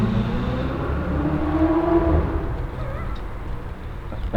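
Steady engine rumble of a Ferrari 488 with an aftermarket Novitec exhaust, throaty note holding a low drone and swelling slightly mid-way, heard fairly close with no one speaking.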